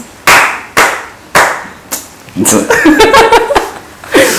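A few loud, single hand claps ring out, spaced evenly in a studio interview, then laughter and chatter break in before one more clap lands.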